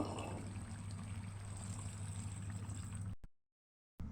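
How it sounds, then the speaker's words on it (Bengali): Water poured into a pot of potatoes and chicken, a soft continuous stream running for about three seconds, faint and steady, then a brief silence. "পরিমাণ মতো পানি দিয়ে দিব সিদ্ধ হওয়ার জন্য।"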